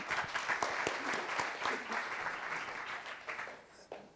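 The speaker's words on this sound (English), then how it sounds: "please give also welcome him with a warm applause" An audience at an international land policy forum claps warmly, a dense wash of hand claps that rises quickly and then gradually thins out toward the end.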